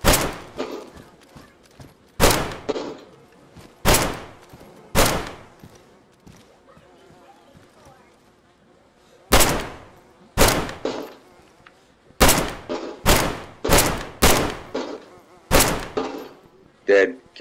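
Gunfire in a shooting video game: a series of sharp, loud shots in irregular bursts, some single and some in quick clusters, with quieter stretches between them.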